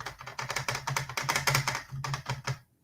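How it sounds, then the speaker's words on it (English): Rapid clattering keystrokes on a computer keyboard, close and fairly loud, tapping in dense bursts with brief pauses and stopping abruptly near the end. "I don't know what you're typing, but I think you should probably stop."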